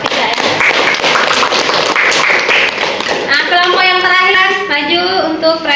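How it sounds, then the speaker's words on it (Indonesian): Classroom applause for a student group presentation during a teaching practice session, dense clapping over the first three seconds, then fading as voices begin talking over it. "Tepuk tangan untuk kelompok 3 ya."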